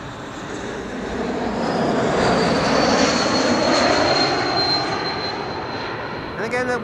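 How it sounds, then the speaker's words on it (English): An Airbus A220-300 airliner with geared turbofan engines passes at Amsterdam Schiphol Airport with a broad rumbling roar and a steady high-pitched whistle running through it, swelling and then fading slightly. "The typical geared turbofan sound that you also heard just now with the previous airplane"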